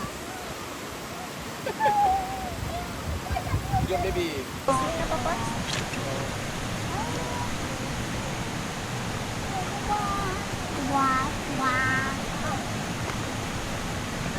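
Steady rushing water from the Jeram Toi waterfall in Negeri Sembilan fills the scene continuously, with people talking and a voice over it.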